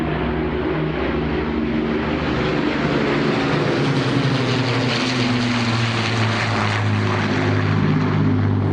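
An Avro Lancaster bomber with four Rolls-Royce Merlin engines drones steadily and loudly overhead, a dense, continuous propeller roar that holds without a break, with no voices.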